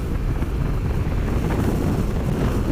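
A strong headwind on the Birdsville Track buffets the microphone in a loud, continuous low roar with gusty fluctuations throughout and no voices.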